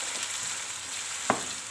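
Chicken pieces frying in hot oil for chicken karahi, a soft steady sizzle held low in the background with one brief sharper crackle near the end, no voices.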